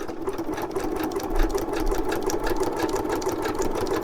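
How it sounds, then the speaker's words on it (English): Sewing machine running a continuous buzzing stitch up close and fairly loud, steady throughout while sewing a short back stitch. "I'm going to just sew down and do a little back stitch"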